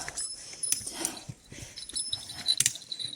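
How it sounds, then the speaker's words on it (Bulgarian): A dog nearby gives faint whimpers, sniffs and soft vocal sounds in brief scattered bursts, with quiet high clinks and rustles around it. "Хубаво куче, добро куче."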